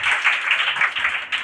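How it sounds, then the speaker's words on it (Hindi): Applause at a school farewell ceremony for Class 12 students, a steady wash of many hands clapping close by, continuous and fairly loud for the whole stretch. "इनके लिए ताली मार दीजिए"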